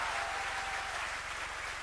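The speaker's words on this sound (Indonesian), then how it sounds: "Tepuk tangan buat Raja kita," A church congregation claps steadily through a sermon service, a dense continuous wash of hands with a low hum underneath and no voices on top.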